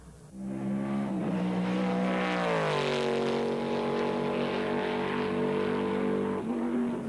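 A loud Saleen Mustang race car engine roars steadily up close, its deep revs climbing and then settling into a sustained, unmuffled drone.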